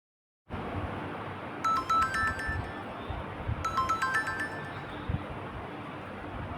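A phone rings while a call to a child helpline is placed, with two repeated chiming electronic ring patterns over a steady hiss of line noise, fairly quiet and with no talking.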